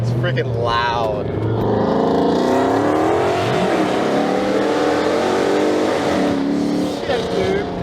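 A Dodge Charger R/T fitted with long tube headers revs hard and close by, a loud, continuous roar with rising and falling pitch through the whole stretch.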